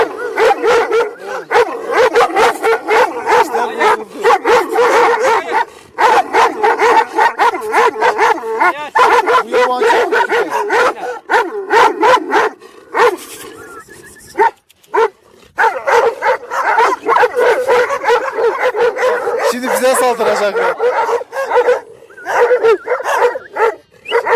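Kangal sheepdogs bark loudly and almost continuously while chasing wolves, with dense overlapping barks, yips and whimpers from more than one dog, close by and with only brief pauses.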